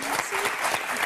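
A brief burst of dense applause from a TV game show studio audience on Motus, steady and fairly loud throughout.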